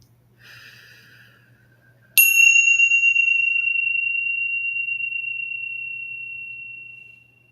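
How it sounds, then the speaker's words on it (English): A mindfulness bell is struck once and rings out with a clear, pure tone that slowly fades over several seconds, preceded by a soft breath in an otherwise quiet room. "I really love that bell."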